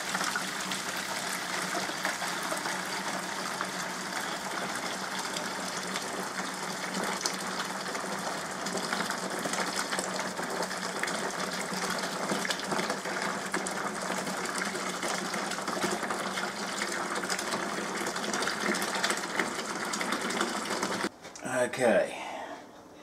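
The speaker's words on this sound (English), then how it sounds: "We're gonna fill up the mash tun" Hot strike water pours steadily into a home-brewing mash tun, a continuous rushing, trickling flow that holds level for some twenty seconds before breaking off into a few brief clunks and handling noises at the end.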